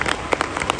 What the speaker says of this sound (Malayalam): ഒരു ശക്തമായ കയ്യടി അദ്ദേഹത്തിന് കൊടുക്കുക.